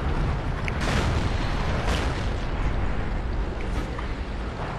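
Tank cannon shot in World of Tanks, a T25 AT American tank destroyer firing: a dense booming roar with a sharp burst near the start and another around two seconds, over continuous rumbling engine and battle noise.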